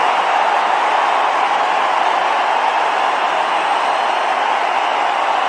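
A packed cricket stadium crowd roars continuously after a big six from MS Dhoni in an ODI against Pakistan, a loud, even wash of cheering that holds steady without pause.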